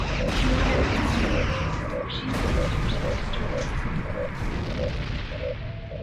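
Starship phasers from the USS Enterprise 1701-D fire in a Star Trek video game during a battle with a Borg cube: repeated booming energy blasts over a dense, rumbling battle din.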